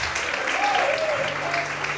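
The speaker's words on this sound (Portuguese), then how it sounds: "Você pode aplaudir o nome de Deus." Church congregation applauding during an evening sermon, a steady dense wash of clapping filling the whole moment with faint voices mixed in.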